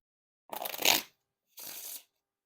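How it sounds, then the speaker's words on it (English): Two quick riffle shuffles of a Bicycle Jolly Roger deck of playing cards, a crisp fluttering burst followed by a shorter softer one, close up against silence. "And now time for the riffle shuffle or bridge shuffle."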